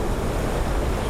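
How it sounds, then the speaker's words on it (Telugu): Water sprays from an open dam gate at Kondapochamma Sagar, a loud, dense, unbroken roar heard close up with a wash of wind noise over it, and no speech. "చూడండి ఒకసారి వాటర్ స్ప్రే అలా ఉంది అసలు మొత్తం."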